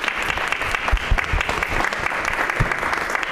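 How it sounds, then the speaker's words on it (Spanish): Audience applause for a team at a university design talk between former and current students, a full, steady burst of many people clapping close by, with a few low knocks and no speech. "un aplauso para el equipo"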